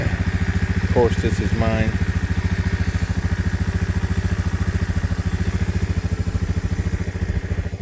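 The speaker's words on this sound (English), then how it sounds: "bikes. This is what we ride to the fishing spots." Motorcycles used for riding to fishing spots idle nearby with a steady, loud, rhythmic engine putter running throughout, while someone talks briefly over it.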